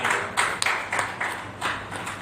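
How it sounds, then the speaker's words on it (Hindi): Audience at a kavi sammelan poetry gathering during a Ramotsav stage event claps for the poets, a few moderate bursts of applause and scattered hand claps that rise and fade, heard from a short distance. "एक बार जोरदार तालियां आपके लिए।"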